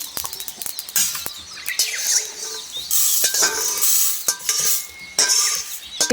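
Dried red chillies fry in oil with mustard seeds in a pan for lemon pickle, with intermittent crackling sizzle and clattering spatula stirs and metal scrapes, close and uneven.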